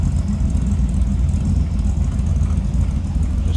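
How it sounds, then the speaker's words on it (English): The 283 V8 engine of a 1936 Chevrolet Master Coupe idles with a deep, steady exhaust rumble, low and close, with no other sounds. "A little rumble coming out of that 283."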